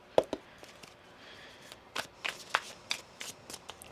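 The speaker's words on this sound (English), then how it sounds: "One more shuffle." A tarot deck being shuffled by hand, giving quiet papery riffles and several sharp card snaps spread unevenly over a few seconds, close and alone with no talk.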